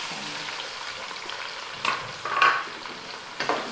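Chopped garlic sizzles and crackles in hot oil, a steady soft frying hiss with a few louder pops and stirring scrapes.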